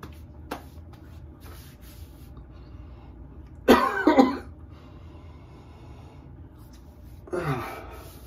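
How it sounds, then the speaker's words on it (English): A person coughs near the microphone: one sharp, harsh cough burst with a short follow-up, then a second softer cough a few seconds later, amid quiet background handling noise. "the cough there was because"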